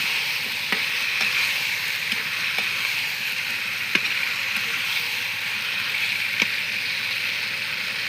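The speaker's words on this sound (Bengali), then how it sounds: "গোশটা দিয়ে এখন আমি ভালোভাবে নেড়ে চেড়ে মিশিয়ে নেব" Chicken meat frying in a pan over an open clay stove, a loud, even hiss of sizzling oil with a few scattered clicks and scrapes as it is stirred, no one speaking.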